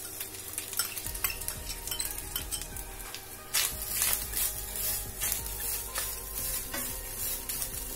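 Grated fresh coconut sautéing in ghee for a traditional Maharashtrian sweet filling, with a steady soft sizzle, a spoon scraping and stirring through it, and occasional clinks against the pan, growing louder partway through.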